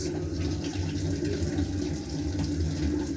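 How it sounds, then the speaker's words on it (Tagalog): Water pours steadily into the tub of a Panasonic automatic washing machine as it fills, a constant low rushing that holds at an even level from start to finish with no voices. "Hintayin ko lang na mapuno yung tubig saka ako maglalagay ng Clorox."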